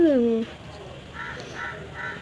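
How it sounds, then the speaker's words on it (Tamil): A small young crow gives one close, drawn-out caw that slides downward in pitch, followed by a person talking softly nearby. "பார்த்தா இது ஒரு காக்கா"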